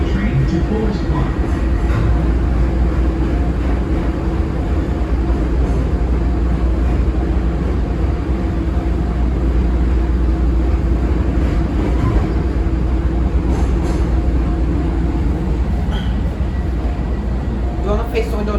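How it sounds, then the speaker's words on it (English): Chicago CTA Blue Line rail car 3329 rolling toward Forest Park, a steady close interior rumble and hum of wheels and motors running throughout, with faint voices now and then over it. "This is a Blue Line train to Forest Park."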